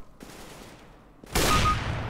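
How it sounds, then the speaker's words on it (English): Counter-Strike: Global Offensive gunfire, with a short burst of shots early on followed by a loud, dense volley that fills the last second. "Even I didn't hear him because of the gunfire"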